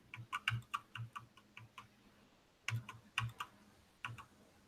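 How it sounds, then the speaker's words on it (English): Keys tapping on a computer keyboard in quick, uneven bursts, with a short pause midway before the typing resumes; fairly quiet and close. "I heard somebody's typing get slower."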